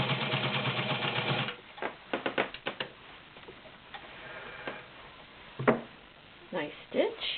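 A White Model 614 heavy-duty 1.3-amp sewing machine with a size 18 needle stitches through ten layers of cotton-poly blend, a dense steady burst of motor whir opening, then scattered sharp ticks and short runs; speech is present.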